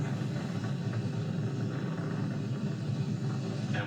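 Falcon 9 rocket engines roar in a steady, dense broadband rumble during supersonic ascent on the first crewed Dragon launch, heard distant and continuous with no speech.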